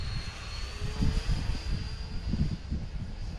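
A small depron foam RC model of an F-86 jet flies overhead with a steady whining motor drone, swelling and fading gently as it banks through wide turns, with no voices.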